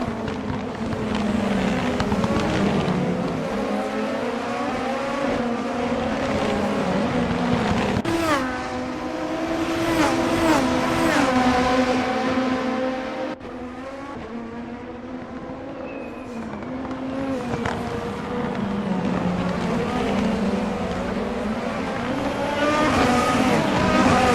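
Race cars in a racing video game on the Okayama GP circuit, with engines whining and shifting pitch as they accelerate and downshift, several cars close together and running continuously, with no voices.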